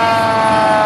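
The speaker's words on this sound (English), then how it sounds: "Minerva Fire Department with Chief Greg Wright and Assistant Chief B" A Minerva Fire Department fire truck siren sounds loud and close during the 2024 Minerva Day Parade, a steady sustained wail with strong harmonics that fills the whole moment without any talk.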